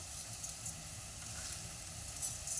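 Food frying and being stirred in a pan while making a breakfast dhokla, giving a faint, steady sizzling hiss throughout with no talking.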